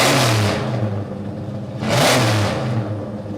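A V8 muscle car engine revs hard twice, each roaring swell rising and easing off, loud and close with no one speaking.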